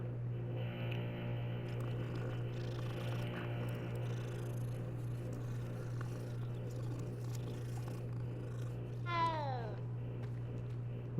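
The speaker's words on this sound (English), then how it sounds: "Did the cat just talk?" One short, rising-then-falling cat meow from Hogwarts Legacy rings out near the end over a steady low background hum that fills the rest of the scene.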